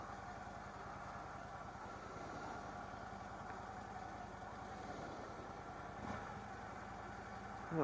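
A high-mileage Harley Davidson Ultra Classic motorcycle engine idles with a steady, low, throbbing pulse, close and continuous, with a slight rise at the very end.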